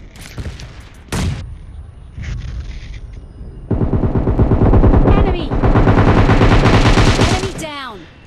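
Gunfire in PUBG Mobile Lite: a few sharp isolated shots first, then loud sustained rapid automatic fire and shotgun blasts, close and dense, ending with ringing metallic pings.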